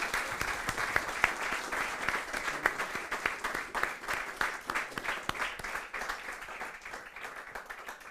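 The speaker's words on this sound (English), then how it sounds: "please let's give Branko a round of applause." An audience at a lecture by Professor Branko Milanovic gives a round of applause. The clapping is sustained and fairly distant, with individual claps audible, and it slowly thins toward the end.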